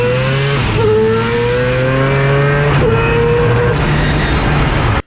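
Four-rotor race car accelerates hard at close range, its loud buzzing engine note climbing in pitch and dropping abruptly at two quick gearshifts before cutting off.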